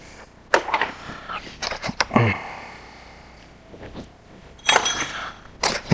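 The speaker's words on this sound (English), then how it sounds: "Now I'm just going to unbox it." Cardboard packaging and plastic parts of a smart lock being unboxed, with scattered clinks, rustles and taps of box and contents up close, in bursts separated by quieter stretches.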